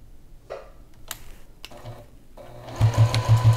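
A sewing machine stitches quilt binding after a few soft handling clicks, ending in a loud, close run of rapid rhythmic needle strokes.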